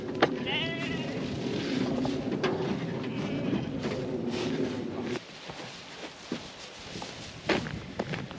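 Sheep and young ewe lambs bleat in a yard or pen, several calls near and far with shuffling hooves and movement, the bleating busier at first and thinning out later.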